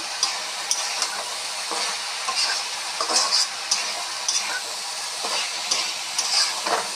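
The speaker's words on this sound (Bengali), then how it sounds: "পাঁচফোড়ন আর আদা শুকনো মরিচ এসব দিয়েছি ওই আছে এখন" Panch phoron, ginger and dried chilies fry in hot oil, crackling in a bright continuous sizzle punctuated by sharp popping ticks and occasional stirring, close and with no talk.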